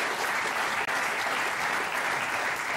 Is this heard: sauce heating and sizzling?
no